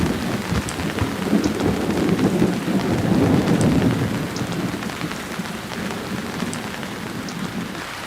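Heavy rain pours steadily onto surfaces while low thunder rumbles and swells through the middle, then fades back to the downpour.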